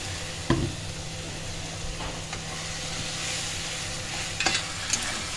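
Spice masala being fried and stirred in a pan, with a steady low sizzle and a few scraping stirs of the spoon, close by and fairly quiet.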